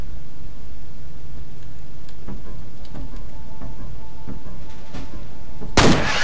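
A single sharp, loud gunshot blast in the video game F.E.A.R. bursts out near the end after a stretch of low rumbling background and faint thuds.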